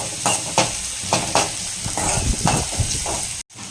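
Onions and curry leaves sauté in a pan for potato masala, a steady sizzle under repeated scraping strokes of a spoon, with a brief dropout near the end.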